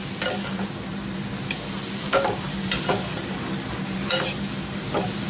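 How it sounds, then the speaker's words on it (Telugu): Pieces of bottle gourd frying in oil in a pan, a steady close sizzle with occasional soft stirring scrapes and clinks, no voices. "ఇదిగో నూనెలోనే ఇలా ఫ్రై చేసుకోవాలి."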